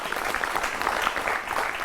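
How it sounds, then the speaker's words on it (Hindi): An audience at a panel event applauds to welcome a guest, producing a steady, moderately loud wash of clapping that lasts throughout without any talk. "आप उनका भी तालियों के साथ स्वागत कीजिए"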